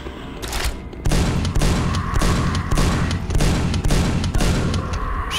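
Shotgun blasts in the video game Quake: a dense stream of loud, booming shots in close succession with gunfire clatter, sustained and continuous without speech.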